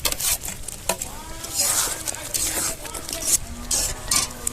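Paneer pieces hitting a hot pan for a quick home-style paneer curry, giving a steady sizzle with stirring scrapes and light clinks of a spatula against the pan, moderately close and uninterrupted.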